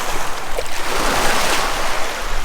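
Waves lap and wash over a shingle shore at the water's edge on the Norfolk coast, a steady close hiss of water with soft rushing surges.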